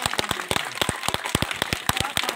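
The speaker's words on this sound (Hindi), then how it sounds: "जोरदार ताली होना चाहिए।" An audience claps in a loose, uneven patter of sharp individual hand claps at moderate volume, with no voices heard.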